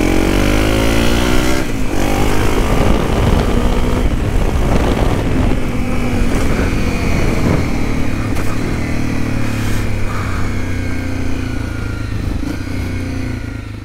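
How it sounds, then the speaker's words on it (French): A motorcycle engine labours through mud near Vassivière, revving hard and steadily at close range with a loud, continuous growl and wind buffeting the microphone. "si tu veux avancer, je pense qu'il faut tout le temps taper dans le moteur"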